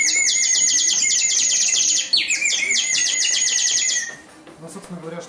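A water-filled whistle imitates a nightingale with rapid, bright warbling trills, loud and close, then stops abruptly as faint talk and background murmur continue.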